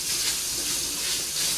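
Cold water runs steadily from a tap in a lab test setup, a continuous hissing rush with no pauses, loud and close throughout.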